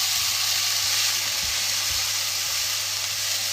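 Spices sizzling in a pan for a lamb dopiaza, a loud, close, steady bright hiss of frying with faint low stirring thumps underneath.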